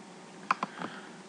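A few quick keystrokes on a computer keyboard while entering data into a spreadsheet, heard as two crisp close clicks followed by softer taps in quiet surroundings.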